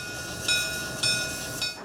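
A passenger train at the Bluegrass Railroad Museum in Versailles gives a steady hiss with three sharp bursts of high whistle or brake squeal tones, fairly close and with no talking.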